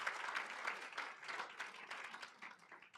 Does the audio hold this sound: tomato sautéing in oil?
no